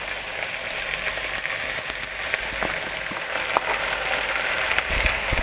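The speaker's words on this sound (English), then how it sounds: "Now that everything is mixed up, we are going to start adding our mince." Mince frying in a pan for Ghana meat pie filling, a loud continuous crackling sizzle dotted with sharp pops, steady throughout.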